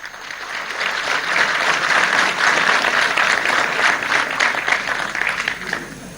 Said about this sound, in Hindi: let us put our hand together for all the dignitaries on the dais